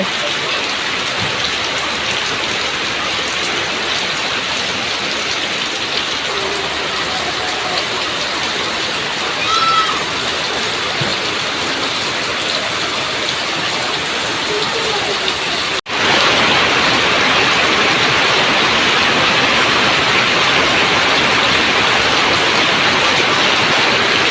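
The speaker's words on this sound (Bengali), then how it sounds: "অনেক বৃষ্টি নামতেছে বাহিরে" Constant heavy rain pours down outside, a dense roar that grows louder and fuller partway through, with faint voices in the background.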